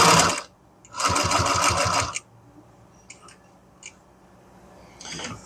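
A sewing machine stitches a MOLLE pouch in two close, loud bursts of rapid mechanical whirring, the second about a second long, followed by a few faint clicks and taps and a brief final run.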